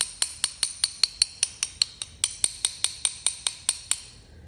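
Hammer tapping a rust-frozen ratchet in about twenty sharp, evenly spaced metallic taps, close and bright, with a slight pause partway through.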